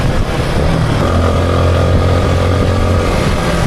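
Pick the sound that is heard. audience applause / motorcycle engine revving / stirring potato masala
motorcycle engine revving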